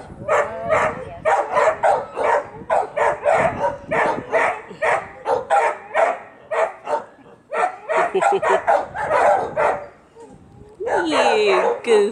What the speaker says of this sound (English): You goofy dog.